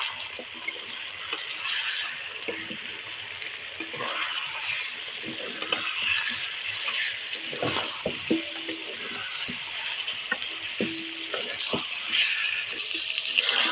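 Beef fries down in oil for kosha, a continuous close sizzle broken by intermittent stirring scrapes and rattles against the pan, with no talk.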